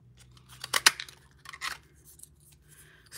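Scissors snip through stamped paper to cut out an ice cream cone shape for a card craft: two quick close cuts, then a third a moment later, with quiet rustling in between.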